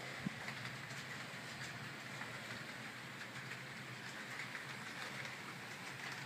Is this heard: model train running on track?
yes